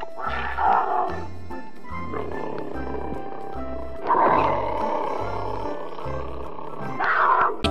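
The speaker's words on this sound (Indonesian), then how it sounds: "yang ini namanya harimau loh teman-teman" A tiger in the video game Jurassic World Evolution 2 lets out deep, rumbling roars that rise and fade in waves, loud and close, over a steady low thudding game soundtrack.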